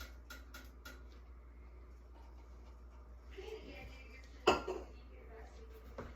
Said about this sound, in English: I'm gonna stir that up a bit.